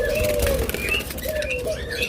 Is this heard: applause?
no